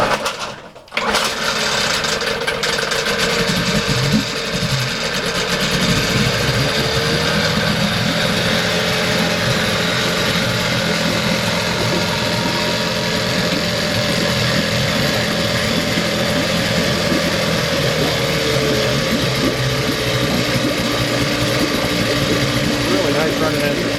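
A 1976 Evinrude 9.9 outboard motor, fitted with a new impeller, catches on a cold start after a brief sputter and settles into a steady, loud, close idle that runs unbroken to the end.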